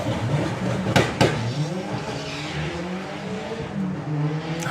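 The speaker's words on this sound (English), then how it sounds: "Lupo always launches so well." A turbocharged 20-valve VW Lupo drag car launches hard off the line at the Bug Jam drag strip: sharp loud bursts, then a sustained roaring, close engine note with broad track noise behind it.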